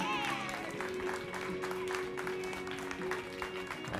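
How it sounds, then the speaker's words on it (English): A video game crowd in Alan Wake 2's Night Springs DLC cheers and claps quietly in the background, a steady patter of applause mixed with other faint game sounds. "Oh, they're all cheering me on?"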